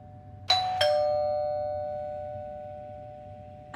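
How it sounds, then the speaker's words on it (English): A doorbell chimes twice in quick succession, each bright tone ringing out and slowly fading, then a third strike starts right at the end. The room is otherwise quiet, with a low hum underneath. "I heard another doorbell, that's why I'm really nervous."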